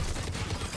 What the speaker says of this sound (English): Oh, that's a turret.